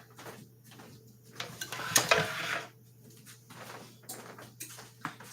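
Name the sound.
non-stick skillet being taken out and handled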